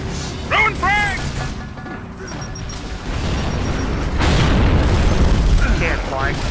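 A frag grenade going off in Gears of War on insane co-op, a low rumbling burst that swells and lingers behind game chatter and voices.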